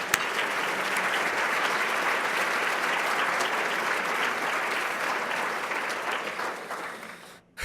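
A summit audience claps in a dense, sustained round of applause that holds steady for several seconds, then tapers off and stops near the end.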